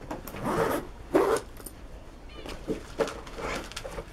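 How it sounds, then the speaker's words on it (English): A zipper is pulled shut around a sherpa pet carrier bag holding a small Yorkshire terrier, giving several quick rasping strokes at close range with faint movement between them. "just zip it up."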